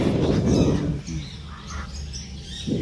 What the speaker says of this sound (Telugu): మన పక్కనే బర్డ్స్ అయితే ఉంటాయి, లవ్ బర్డ్స్, ఇంకా రకరకాల పక్షులు అయితే ఉంటాయి.